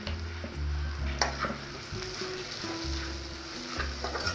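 Konaseema-style broad beans fry with chili powder and dried red chilies, crackling steadily up close while a spatula scrapes and stirs in repeated strokes, with a low hum underneath.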